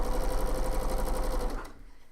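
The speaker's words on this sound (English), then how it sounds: "So you're going to repeat the sewing 1/4 inch either side of that line." A sewing machine stitching quilt triangles for flying geese blocks, its needle hammering in a fast, steady close rhythm for about a second and a half before stopping abruptly.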